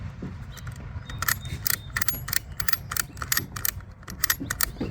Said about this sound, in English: Now I can start ratcheting.